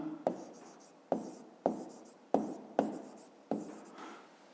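A pen writing out a fifth-grade math exercise solution on paper, heard close and quiet as five separate scratchy strokes spaced about a second apart, each starting with a tap and fading out.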